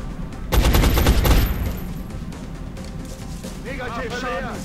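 Automatic gunfire in the video game XCOM: Enemy Unknown: a loud, rapid burst of shots lasting about a second, followed by softer game effects and a warbling tone, with someone talking over the action.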